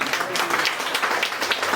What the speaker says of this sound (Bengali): আসুন আমরা যিশুকে জোরে করতালি দিই।